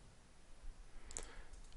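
A single faint computer mouse click sounds while someone works in AutoCAD. It is a brief, sharp tick over low background hiss, with no voices.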